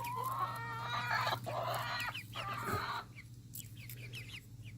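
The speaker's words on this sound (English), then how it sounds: "She squawked and squawked and squawked." A hen squawks loudly and repeatedly after laying an egg, close by in a backyard coop, then settles into softer, sparser clucks.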